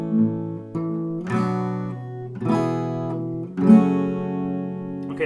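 Guitar chords from a song strummed slowly with the thumb, four sustained chords with soft attacks, each ringing out before the next, played alone without voices.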